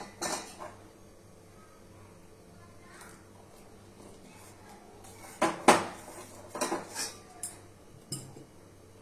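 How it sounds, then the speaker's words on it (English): A utensil clinks and scrapes against a pan as milk is stirred over high flame, with quiet stretches between sharper metallic knocks and a faint steady hum beneath. "Now I am mixing it with high flame only."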